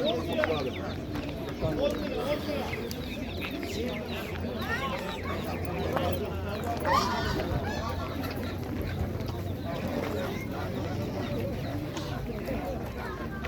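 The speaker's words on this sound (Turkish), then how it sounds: "Sanırım bunlar da çıkma tavuk." Chickens cluck and chatter at a crowded bird market in Eskişehir, with people talking and general background bustle throughout.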